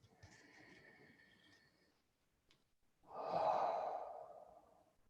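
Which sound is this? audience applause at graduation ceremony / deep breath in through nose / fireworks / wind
deep breath in through nose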